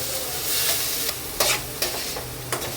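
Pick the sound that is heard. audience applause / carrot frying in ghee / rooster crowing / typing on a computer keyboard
carrot frying in ghee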